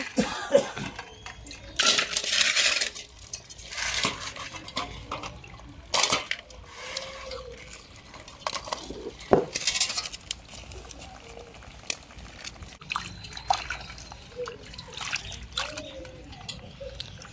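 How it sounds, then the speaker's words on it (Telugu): Water sloshes and splashes in a container with intermittent clattering as crabs are rinsed by hand, faint background noise between bursts, no clear talk. "ఎండకాయలను ఒకసారి కడిగి రెండు మూడు సార్లు నీళ్ళు మార్చి మళ్ళా కడగాలి"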